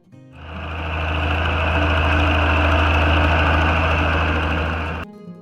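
A Case 930 diesel tractor engine runs at a steady idle, a deep even throb with a constant mechanical whine over it, starting and stopping abruptly, loud and close.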